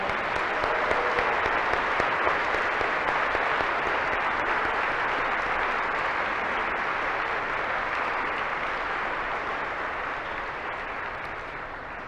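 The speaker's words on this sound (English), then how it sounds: "please give our veterans a round of applause" A school Veterans Day program audience gives veterans a long round of applause, dense sustained clapping from a large crowd that holds steady and then slowly thins and fades toward the end.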